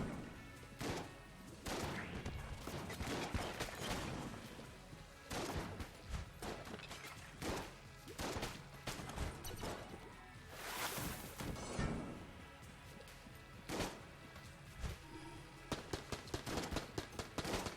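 Dense, rapid gunfire from the Radgun in the video game Enter the Gungeon, continuous bursts of loud crackling shots with brief gaps, mixed with game effects and no talking.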